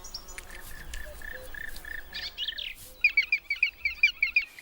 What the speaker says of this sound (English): But the woodpeckers have a far noisier and larger family to feed.